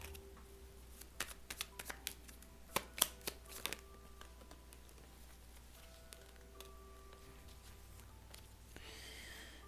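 Soft, close card shuffling for a tarot-style reading, heard as a run of quick papery riffles and light taps against a quiet room hum, ending with a brief rustle.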